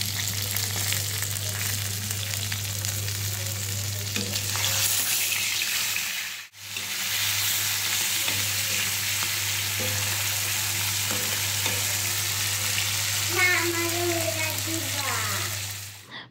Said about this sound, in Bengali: মাছগুলো ভাজতে দিয়ে দিব।